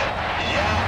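A World War II fighter's piston engine roars in the flight sim IL-2 Battle of Stalingrad as it starts, a dense, steady, fairly loud drone with no break.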